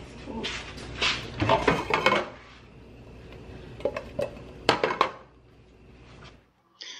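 A metal pan is set on a kitchen stove with a few clattering knocks and scrapes, in two short bursts separated by a quieter stretch.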